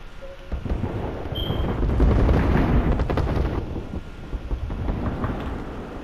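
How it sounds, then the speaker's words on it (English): Deep, rumbling booms from an airstrike in Apex Legends, a rolling series of heavy explosions that swell and fade over several seconds. "Y'all trying to airstrike me?"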